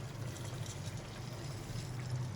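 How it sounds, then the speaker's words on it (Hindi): Water is poured from a glass into soaked basmati rice in a pot, a soft continuous splashing trickle heard close up, fairly quiet and steady for a couple of seconds. "मेरे पास 3 गिलास पानी है, ये डालेंगे।"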